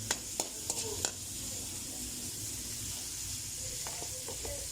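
Tomatoes sizzle and fry steadily in a pan ahead of bitter gourd (ampalaya) going in, a continuous close hiss with a few sharp pops and clinks of a utensil near the start.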